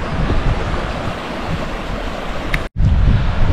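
Phe Phe Falls, a waterfall in Meghalaya, sends up a loud, continuous rushing roar of falling water, dense and unbroken, with a brief dropout near the end before the roar returns.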